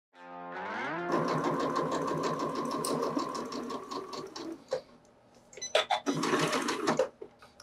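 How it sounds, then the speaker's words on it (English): A sewing machine runs a steady straight stitch along the edge of a simple fabric apron, a close, continuous mechanical whir that drops out briefly with a few clicks, then resumes in a second burst. "I've stitched all the way around, pivoting at the corners and being really careful not to catch my straps in the stitching"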